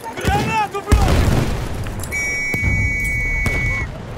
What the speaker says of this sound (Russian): Гранату бросим!